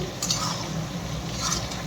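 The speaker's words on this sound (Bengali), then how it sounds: "এখন এগুলো দিয়ে ভালো করে একটু কষতে হবে মাংসটা, আবার একটু কষে নিই" Chicken is stirred and sautéed with spices, ginger and garlic in oil in a pan, a steady close, low scraping and sizzling with a few soft utensil clinks.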